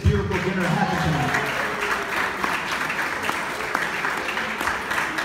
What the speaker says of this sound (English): Give everyone a round of applause that put work into making this beautiful dinner happen tonight.